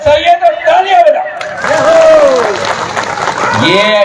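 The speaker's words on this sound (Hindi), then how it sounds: "अरे सही है तो तालियां बजाओ।" Crowd at an outdoor political rally in Jaisinghnagar breaks into applause and cheering after a call from the stage, with loud voices and chatter mixed over the clapping.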